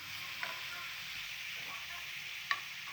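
Eggs and onion fry in oil for egg curry, a faint, even sizzle with a couple of small sharp pops.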